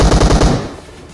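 Rapid automatic gunfire in the mobile battle-royale game PUBG Mobile, a loud, close burst of several quick shots that cuts off and fades after about half a second.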